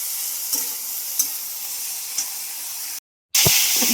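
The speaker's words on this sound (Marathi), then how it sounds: "तर आता मी ह्याला भाजून घेते चांगलं." Flat beans (ghevda) roast in a hot pan with a steady close sizzle and hiss, broken by a few soft stirring knocks and a brief dropout near the end.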